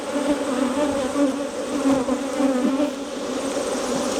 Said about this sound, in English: I'm going to just take these bees and we're going to shake them out here.